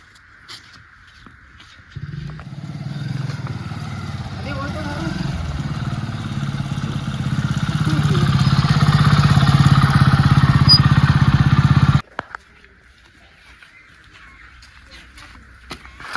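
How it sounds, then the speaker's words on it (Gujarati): A motorcycle engine approaches outdoors, a steady droning rumble that starts abruptly, grows louder as it nears over about ten seconds, then cuts off, with farmyard sounds faintly around it. "મારા દેવનો બાઇકનો અવાજ આવે"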